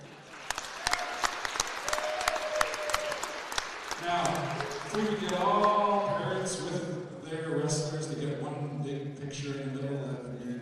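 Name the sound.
crowd applause for senior wrestlers and parents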